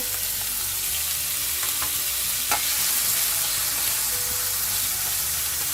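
Diced potatoes frying in olive oil in a stainless steel pan over low heat, a steady close sizzling hiss with a few faint stirring clicks and scrapes.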